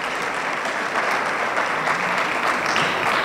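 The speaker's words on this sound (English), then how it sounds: "So I think you need to give a round of applause to your dean of your business school" An audience applauding a business school dean, dense sustained clapping from a crowd filling the room, loud and even throughout with no voices over it.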